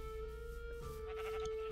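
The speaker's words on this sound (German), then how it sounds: "Das ist noch so ein Schaf, das können wir auch nochmal mitnehmen." A sheep bleats in the video game Minecraft, a faint, wavering baa heard alone over a steady low background hum.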